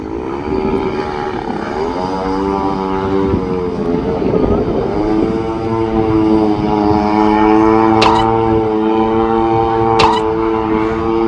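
A 35 cc gasoline engine on a radio-controlled Beaver seaplane buzzes loudly and steadily nearby, its pitch wavering as the throttle shifts, with a couple of brief sharp clicks.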